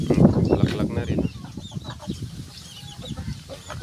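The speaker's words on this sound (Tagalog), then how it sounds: "Tapos may manok din dito." Chickens cluck close by in a rural province yard, with several short calls scattered through the sound and louder bursts at the start.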